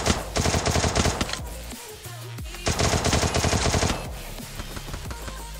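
Two long automatic bursts of gunfire from a Free Fire squad match, loud and rapid, separated by a short pause, followed by fainter scattered shots and game ambience.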